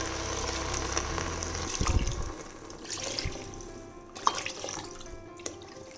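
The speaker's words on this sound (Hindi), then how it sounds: "पानी हम नाप के डालते हैं।" Water is measured and poured into a rice cooker while making matar pulao, a steady close splashing stream with a few drips and clinks toward the end.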